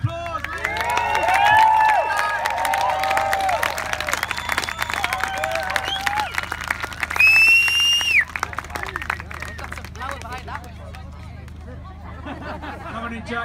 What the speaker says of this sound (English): Can you give Jack a round of applause, please?